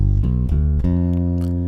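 Bass guitar tones of a G dominant 7 chord ring out close and clear, changing a couple of times then holding a sustained chord, no voices present.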